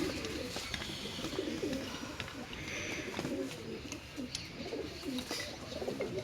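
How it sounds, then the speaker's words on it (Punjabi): Pigeons coo steadily in low, throaty murmurs at an outdoor pigeon sale, over a noisy background with faint voices now and then. "ਇਹ ਵੀ ਕਬੂਤਰ ਆ"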